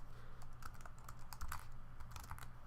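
Quiet, close keystrokes on a computer keyboard tap in an irregular quick rhythm, with no talking.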